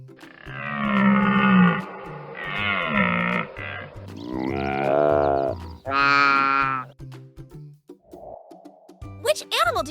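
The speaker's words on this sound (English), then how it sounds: "Exactly! It's the antelope!" An antelope gives a series of loud, drawn-out, harmonic bellowing calls, some rising and falling in pitch, over a faint music bed, with higher squeaky sounds near the end.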